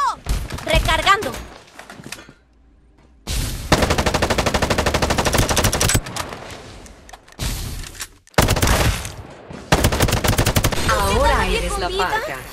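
Rapid bursts of automatic gunfire and single shots crackle in several loud volleys in the video game Farlight 84, with brief pauses between them.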